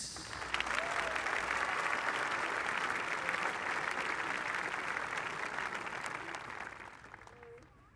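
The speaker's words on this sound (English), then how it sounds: "a big round of applause for the Raiders" A big stadium crowd applauds for a drum corps at an open class championship finals, a broad, distant roar of clapping that swells and holds, then slowly fades toward the end.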